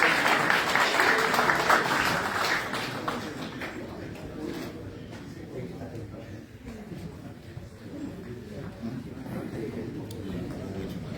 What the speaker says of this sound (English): Clap hands, please.